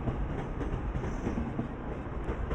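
A train rolls along a railroad in the Roblox zombie game Rise of the Dead, producing a continuous, fairly loud rumbling roar with a faint rhythmic rattle and no voices.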